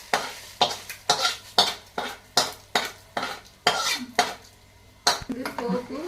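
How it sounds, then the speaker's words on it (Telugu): A spoon stirring hot tempering of asafoetida into tomato juice for tomato pickle, a series of about ten sharp metallic scrapes and clinks against the pot in steady rhythm, close up, with a brief sizzle near the end. "ఇది పోపు టమాటా జ్యూస్లో వేసి బాగా కలుపుకోవాలి"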